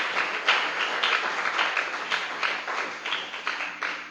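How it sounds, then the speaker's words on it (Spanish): A church congregation claps together in praise of God, a steady run of rhythmic hand claps rising and falling, moderately close with no talk over it. "Démosle un fuerte aplauso de alabanza al Dios Todopoderoso."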